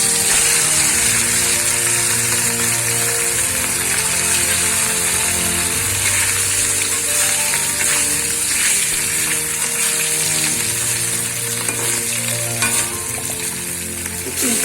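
Pieces of katla fish sizzle and crackle steadily in hot oil, a loud, dense frying hiss that runs unbroken from start to finish with no voices over it.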